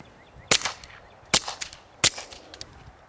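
A Walther PPK .22 pistol fires Armscor high velocity rounds, three sharp cracks spaced under a second apart, each with a short ringing tail, loud and close.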